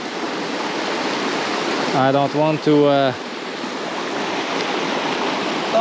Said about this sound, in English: all the creeks are flooded